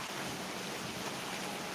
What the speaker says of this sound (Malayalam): നല്ല രസമല്ലേ ഈ മഴ കാണാൻ